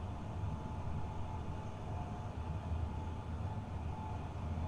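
A Class 745 FLIRT electric train in a simulator runs steadily on the Fen Line with a low, continuous rumble and rail hum that never lets up, heard alone with no talking.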